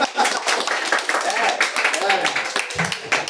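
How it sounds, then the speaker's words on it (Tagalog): A church congregation clapping loudly during Sunday worship, a dense run of sharp hand claps filling the room with voices mixed in. "Mas malakas po na palakpak."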